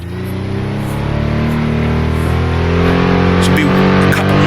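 USAC sprint car engine in the Assetto Corsa racing game at Pikes Peak, a loud steady droning roar with layered harmonics held through a slide, with faint clicks and bumps over the top.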